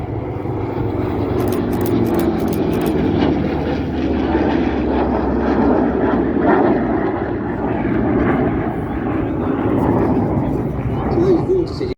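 Aircraft engine noise at an airshow as an F-35 short takeoff and vertical landing variant flies past in formation, a steady loud broadband roar throughout with a commentator's voice over it.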